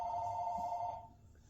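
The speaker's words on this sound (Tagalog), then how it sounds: "AJ, can you answer the phone?" A telephone rings with a single sustained electronic bell tone that holds for about a second and then cuts off, fairly faint indoors over a low room hum.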